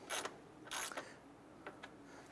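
A ratchet snugs down bolts on a 2008-2012 Honda Accord A/C condenser assembly, giving two short bursts of close clicking followed by a pair of fainter single clicks in a quiet setting.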